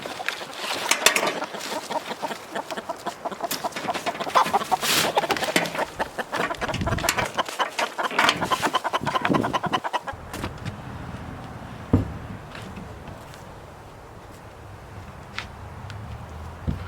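Chickens clucking and squawking inside a farmhouse coop being readied for winter, busy and close for about ten seconds, then quieter scattered clucks and rustling.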